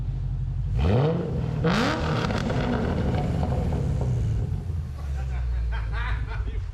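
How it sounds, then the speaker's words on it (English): A 2021 Chevrolet Corvette C8 engine revs sharply twice, then settles into a deep, steady idle rumble, loud and close, with faint voices in the background. "All right, Jeff, this is what your new car is going to sound like."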